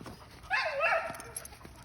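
Young bulldog-line hunting hound whimpering in one drawn-out, wavering whine lasting about half a second, close and moderately loud, with quiet outdoor background.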